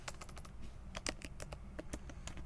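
Rapid keystrokes on a computer keyboard while starting a new Next.js app project, a steady run of close, crisp clicks with small pauses and no voice.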